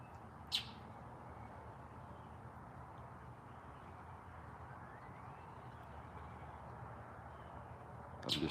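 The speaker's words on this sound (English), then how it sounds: "I'm just enjoying the sounds of the birds and the wind." Birds chirp in short, sparse bursts near the start and at the end over a steady hiss of wind and distant suburban traffic outdoors.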